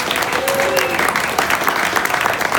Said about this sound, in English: Please, everybody give them a round of applause.